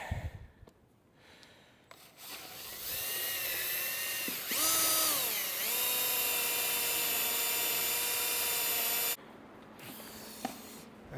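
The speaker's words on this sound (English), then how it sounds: "I have no idea why my drill is making that horrible noise." A faulty power drill bores into wood, spinning up with a high, screeching whine that shifts pitch and then holds steady for several seconds before stopping. It is close and loud, with no talking.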